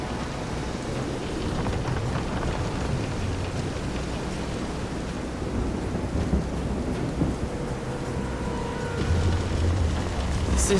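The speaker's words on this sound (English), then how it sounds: "This is some storm." A thunderstorm at sea in the video game Visions of Mana: steady heavy rain and a wash of wind and surf, with low rumbles of thunder swelling near the end.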